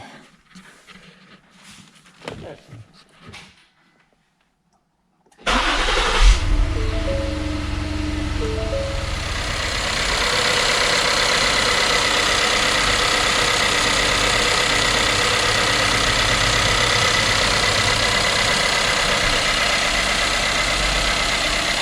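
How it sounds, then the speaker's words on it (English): A 2016 Ford Explorer Sport engine cranks over and fires after a short quiet stretch, then settles into a steady, loud idle that rises slightly and holds, heard close up in a garage with a few faint clicks before the start. "let's crank it up first and make sure we don't have any leaks or whatnot"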